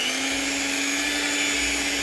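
Electric hand mixer whirring through homemade vanilla cream made with Nestlé milk, a constant buzzing motor drone held evenly and close for two seconds with no talk.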